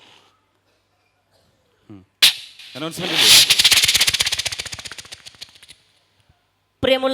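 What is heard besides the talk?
firecracker or gunshot bursts on stage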